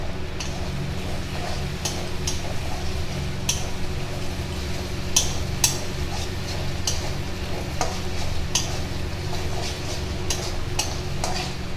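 Pre-fried potatoes are stirred in a pan for chicken curry, making a steady low sizzle punctuated by repeated sharp clacks and scrapes of a spatula against the metal, roughly one every second or so.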